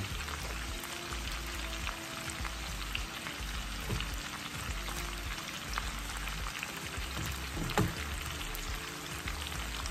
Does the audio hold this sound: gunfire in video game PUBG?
no